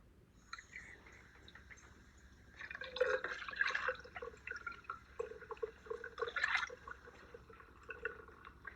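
Tap water runs from the kitchen sink into a plastic freezer bag, a steady trickling pour with a couple of louder splashy surges near the middle and end, fairly close and without talk.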